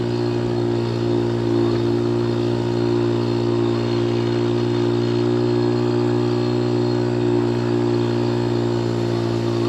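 A 1979 Honda Express moped runs through a yard with a steady, loud, buzzing engine drone that stays level and continuous throughout, heard up close.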